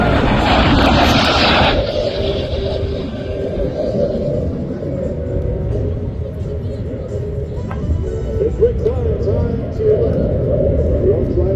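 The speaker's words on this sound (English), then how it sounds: "smoke on, Mr. Rick Sharp flying his MiG-15 from the right." A MiG-15 jet flies past at an air show, a loud roaring rumble that swells and holds steady, with an announcer's voice speaking over it.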